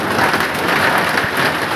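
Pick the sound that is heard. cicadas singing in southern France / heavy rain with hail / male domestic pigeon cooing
heavy rain with hail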